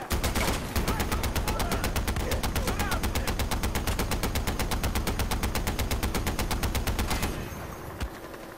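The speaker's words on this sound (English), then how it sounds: "This machine gun's basically a turret in itself." Rapid, sustained machine-gun turret fire in Far Cry 4, a dense stream of shots for about seven seconds before cutting off, leaving faint background noise.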